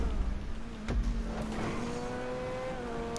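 A hardtop convertible in GTA Online hums along at steady cruising revs, its engine drone smooth and moderately loud, with a brief thump near the start and no talking.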